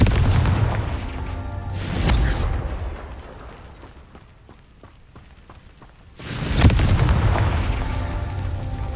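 Booming spell blasts in the video game Hogwarts Legacy: two loud, heavy explosions, one near the start and another around six seconds in, each rolling off with a long rumbling tail, separated by a quieter stretch of faint footsteps and clicks.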